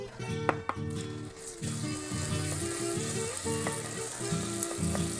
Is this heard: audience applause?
no